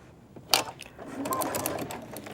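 A sewing machine stitches the side seam of a fabric diaper bag with its pockets, a short run of close, fairly quiet motor whirring after a sharp click, with no talk.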